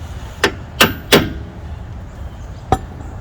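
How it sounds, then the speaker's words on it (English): Four sharp metallic taps of a brass hammer on a Jeep Cherokee Trailhawk's rear suspension during a lift install, three in quick succession and one more after a pause, close and clear against a quiet background. "Brass hammer."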